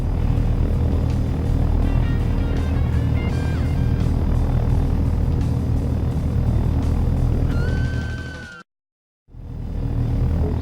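Helicopter in a flight-training video game: a loud, steady rotor and turbine drone that runs continuously, breaks off in a brief silent gap, then resumes at full strength.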